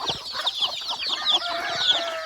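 Country chickens and young chicks cluck and peep continuously at close range while drinking water, a busy overlapping chorus of short calls.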